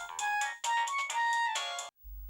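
A phone ringtone plays a bright electronic melody in short repeated phrases, loud and close, then cuts off abruptly before a low hum.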